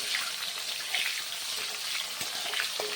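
Tomatoes hitting hot mustard oil with dried and green chillies and cumin in a wok, a loud continuous sizzle with a few stirring clicks, close and steady.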